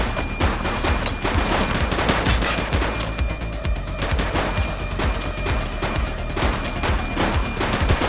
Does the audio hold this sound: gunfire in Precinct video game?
yes